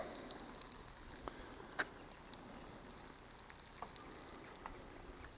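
Water trickles from an old milk bottle with holes punched in its base onto maize seedlings in a backyard vegetable garden, a faint, steady outdoor pour with small patters and drips.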